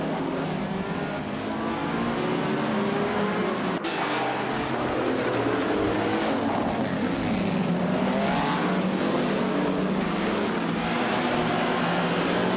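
Several racing cars, led by a 1959 Aston Martin DBR4/250 on pole, roar off the grid in a racing game, a loud continuous engine drone with rising revs and passing swells throughout, no talking.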